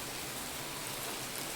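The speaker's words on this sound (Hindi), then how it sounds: "चारों तरफ बारिश ही बारिश।" Steady rain pours down all around a home during a downpour, a dense continuous hiss that stays even and fairly loud throughout with no voices.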